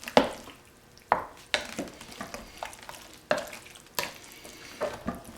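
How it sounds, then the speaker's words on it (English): A spoon stirs a pot of chili, sharp scraping knocks coming every second or so, close and clear with quiet bubbling between strokes. "So we're going to stir this, bring it all together."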